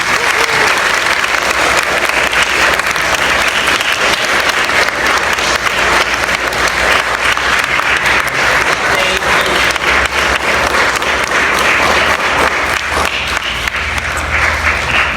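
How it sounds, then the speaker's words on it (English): Sustained loud applause from parents and audience at a kindergarten graduation ceremony, continuous dense clapping filling the room for about fifteen seconds with faint crowd murmur beneath. "Can we give them another applause, please?"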